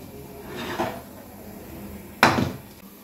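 A metal lid lifted off a cooking pot in a Bengali kitchen after the gas is turned off, with a soft scrape followed by a sharper clank, two brief close metallic sounds and no speech.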